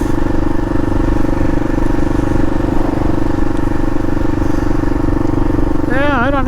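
A Kawasaki KLR 650 motorcycle on a ride gives a steady, loud engine drone mixed with wind rush, with a rising and falling whine near the end.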